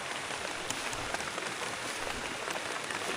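Heavy rain pours steadily onto surfaces in a rice-paddy farm area, a dense, even hiss of drops with scattered sharper taps, faint and constant throughout.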